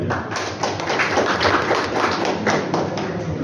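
An audience applauds former governor Shrinivas Patil at a book launch in Satara, a dense, continuous roar of many hands clapping, loud and close, with no speech over it.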